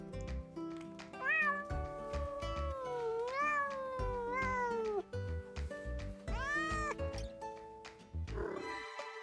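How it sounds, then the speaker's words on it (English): A cat meows repeatedly, close and fairly loud, with a string of drawn-out, wavering, pitch-bending cries, some rising into a strained yowl, ending in a short breathy rasp. "She loves to purr when she's angry, when she's sad, when she's happy."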